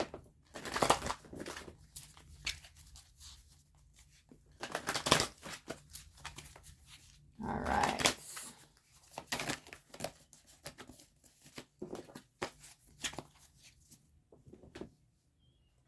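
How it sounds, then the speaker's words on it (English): Tarot card decks shuffled in repeated bursts of riffling and sliding, with quiet gaps between, close up; a voice speaks briefly once. "it's going to shuffle up these decks real quick"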